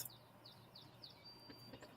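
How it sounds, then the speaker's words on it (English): Faint birdsong outdoors: a series of short, repeated high chirps near the start, then a thin sustained whistle, with light background ambience. "You can hear the birds singing."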